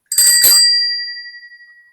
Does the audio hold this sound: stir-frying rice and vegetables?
no